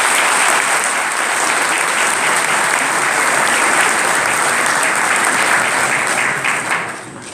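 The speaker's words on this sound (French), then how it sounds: "donc ça mérite vraiment des applaudissements." Loud, dense applause fills the hall at a rabbi's installation ceremony in Toulouse, many hands clapping steadily for several seconds before it begins to fade near the end.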